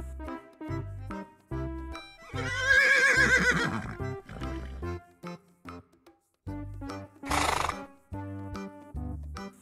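A horse neighing and whinnying as a sound effect played for a muddy toy horse, repeated several times in bursts with gaps between, close and fairly loud with no talk over it.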